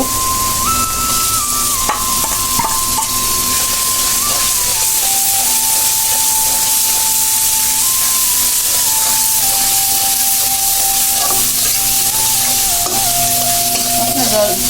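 Spices sizzle in a pan of reddened fried onions with a little cumin, a steady, loud broadband hiss running throughout with occasional stirring scrapes and a faint whistling tone drifting underneath.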